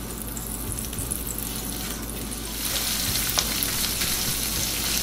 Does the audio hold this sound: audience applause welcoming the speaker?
no